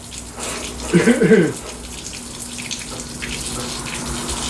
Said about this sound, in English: It appears that the smoker is peeing again.